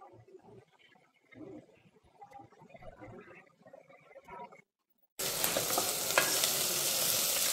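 Masala and turmeric frying in oil for a mutton curry, a bright steady sizzle that starts abruptly and holds loud and close, following a quieter stretch of stirring.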